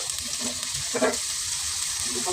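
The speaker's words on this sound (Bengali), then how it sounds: "আগে আমি আলুটা একটু ভাইজে রাখবো," Potato pieces fry in a pan of oil with a steady soft sizzle and an occasional stir, close by and without any talk.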